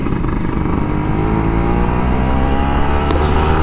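A Kawasaki Ninja RR 150 motorcycle engine runs loud and close for a few seconds, holding a steady, buzzy drone.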